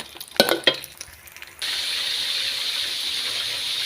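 Fish frying in a pan of oil, a steady dense sizzle that starts abruptly after a few clinks and handling knocks, then continues evenly and fairly close.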